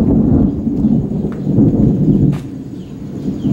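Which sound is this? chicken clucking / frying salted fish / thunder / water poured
thunder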